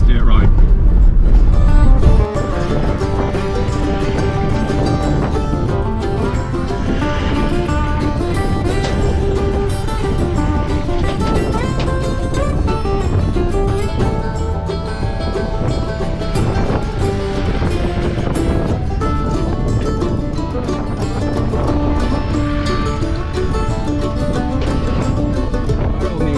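Vehicle on soft tyres driving a bumpy, corrugated dirt track toward a remote beach, a continuous loud rumbling drone with constant rattle and wind buffeting, voices talking over it.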